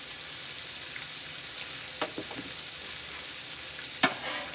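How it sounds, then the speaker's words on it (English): Pork and onions cooking on a flat griddle at about 360 degrees, producing a soft continuous hiss with scattered small pops and one sharp tap near the end. "We're going to let these onions cook."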